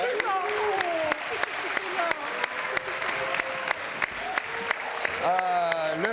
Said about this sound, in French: Applaudissements, mesdames,